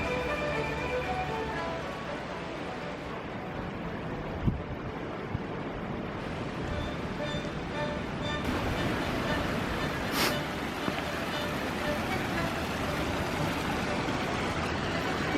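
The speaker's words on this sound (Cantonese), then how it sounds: "今日都唔係太凍， 但係大風" Strong wind gusting along the Bruce Trail at Swayze Falls in Short Hills Park, a continuous roaring buffet across the microphone that swells and eases throughout.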